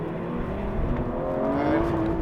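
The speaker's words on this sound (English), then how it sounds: "getting a bit of wheel spin and acceleration across the line" An Aston Martin V12 Vantage S accelerates hard on a wet race track with wheel spin, its engine note loud and rising steadily in pitch as it pulls, heard close and without talk.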